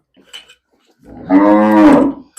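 A young cow on a farm gives a single loud, close, drawn-out moo, preceded by a few faint clicks and knocks.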